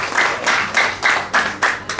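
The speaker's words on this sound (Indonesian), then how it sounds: "Beri tepuk tangan yang paling meriah buat" Church congregation applauding at a Sunday service before the children's Sunday school ministry performs, a steady mid-loud wash of clapping with rhythmic swells, no voices over it.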